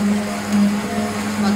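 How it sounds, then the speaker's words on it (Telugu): A mixer grinder hums steadily while blending spiced dal, a continuous motor drone with slight pulsing over less than two seconds. "ఇప్పుడు మనం దీన్ని మిక్సీ పట్టుకుంటున్నాము"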